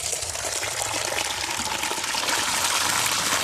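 Water gushes steadily and loudly over a potted plant, a continuous rushing splash with no pauses and no talking.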